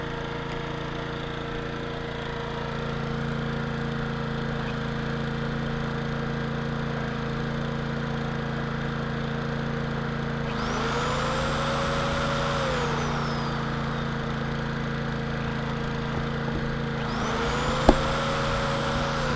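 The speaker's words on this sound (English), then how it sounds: "this generator I put on here, but it seems to be going on forever" A generator aboard a sailing boat runs in a steady, loud drone with a constant hum, while other engine whines rise and fall twice in the background.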